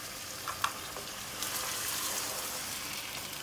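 Beef pieces fry in a pan for Karachi-style nihari, giving a steady, soft sizzle with a couple of faint utensil clicks near the start, no talk.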